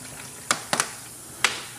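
Short bursts of a deionized-water spray from a pressure washer during a wash of a car with carbon ceramic brakes: three or four brief hissing spurts, one doubled, separated by quiet gaps, fairly close.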